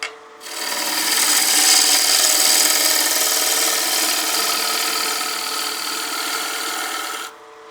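Wood lathe turning a bowl blank as a gouge cuts material away from the tenon shoulder, giving a steady, loud, close rasping shear that runs unbroken for about seven seconds and then stops, with no talking.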